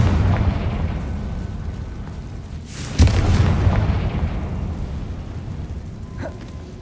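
A Confringo spell blast in Hogwarts Legacy, a loud booming burst with crackling spread across several seconds, a sharp impact hit near the middle and a rumbling tail; no talk.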